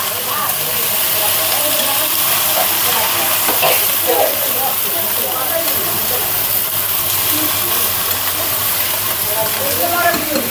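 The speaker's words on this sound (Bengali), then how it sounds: "সবজিটা একটু ভেজে নেব।" Fresh green vegetables frying in a pan, giving a constant loud hiss and sizzle throughout with faint stirring scrapes and no clear talk.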